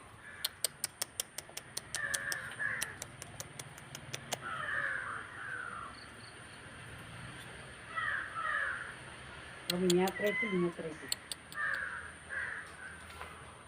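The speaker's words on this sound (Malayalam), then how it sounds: "ഇവിടെ ഇഷ്ടം പോലെ കാക്ക നിന്നിട്ടുണ്ട്" Several crows caw in short harsh bursts spread through the scene, moderately close, with sharp ticking clicks in between and no talking.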